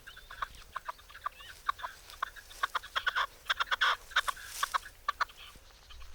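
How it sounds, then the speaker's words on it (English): A wild partridge gives a run of short, clucking call notes, some in quick bursts, clear and fairly close over a quiet outdoor background in Doñana. "It's a wild partridge she has heard."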